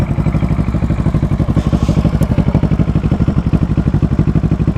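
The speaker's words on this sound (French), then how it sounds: "on va écouter un petit peu le son à l'arrêt de cette moto" Kawasaki ER6N motorcycle, cold, idling at a standstill: a loud, close, low rhythmic thrum with even, rapid pulses and a faint mechanical clatter, steady throughout without revving.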